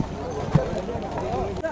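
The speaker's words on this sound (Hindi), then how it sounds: "ये है केदारनाथ का घोड़ा पड़ाव।" Horses' hooves at the crowded Kedarnath horse stop, a scatter of clip-clops under continuous nearby talk and general crowd bustle.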